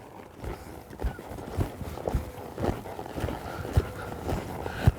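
Hooves of a horse loping through an arena, landing in an uneven rhythm of soft thuds with faint dull impacts between them, close by and without voices.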